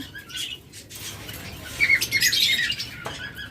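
Green opaline budgerigars chirp and squawk in a bird shop, with several short, bright calls that grow busier toward the middle. The calls are moderately close, with no talking.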